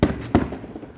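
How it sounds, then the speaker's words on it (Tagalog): Two sharp firework bursts boom outdoors in quick succession, each followed by a brief decaying rumble, fairly loud and with no voices. "Kanina pa nagpuputukan actually"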